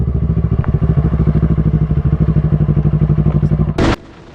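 A motorcycle races at very high speed, around 200 km/h, on an open road, its engine a loud, steady pulsing roar with rhythmic throbbing that cuts off abruptly near the end after a brief sharp burst.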